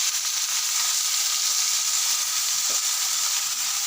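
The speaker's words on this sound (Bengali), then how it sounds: "এখন একটু ফ্রাই করে নেব" Onions and chillies fry in hot mustard oil in a wok, a steady bright sizzle hissing continuously and evenly close up, with no talk.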